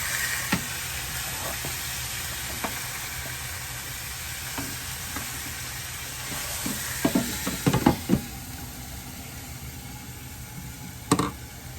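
Thick pork chops sizzle steadily in a frying pan, a constant close hiss broken by scattered clinks and scrapes of a utensil, with one sharper knock near the end.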